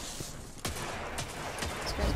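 Hand cannon fire in Destiny 2 Iron Banner, a few sharp reports spaced irregularly over about two seconds, punchy and close amid steady game ambience.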